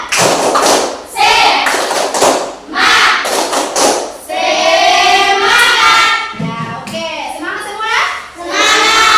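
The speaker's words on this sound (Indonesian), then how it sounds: "Sebelum itu kita tepuk semangat dulu, biar semangat semuanya." Schoolchildren in a lesson on zakat doing a rhythmic spirit clap, bursts of patterned hand claps and thumps alternating with their chanted voices, loud and close.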